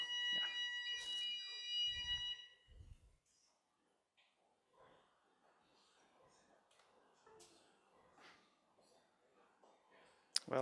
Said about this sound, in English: Oh, do you have to do the alarm?